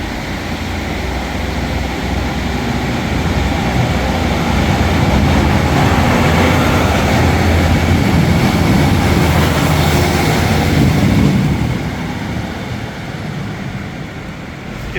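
A diesel train engine grunts and rumbles as the Buxton service pulls out of Stockport station, a loud, sustained roar that swells and holds before easing slightly toward the end.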